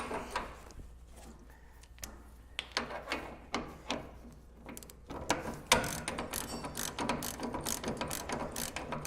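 A ratchet and socket run a nut onto a lock washer during a power steering conversion on a Toyota FJ40, giving close, rapid clicking strokes that grow more continuous and louder toward the end.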